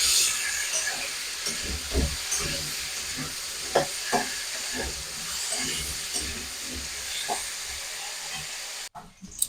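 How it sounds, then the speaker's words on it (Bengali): Potatoes seasoned with salt and turmeric fry in hot oil for a Bengali pea ghugni, a steady sizzle with intermittent stirring clatters and scrapes throughout, cutting off abruptly near the end. "আলুটাকে একটু ভেজে নেব।"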